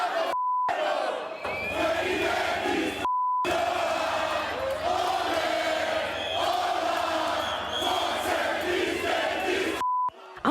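Protest crowd chanting outside an election headquarters, a loud, continuous mass of voices in rhythmic shouts, broken by short silent gaps and brief beeps.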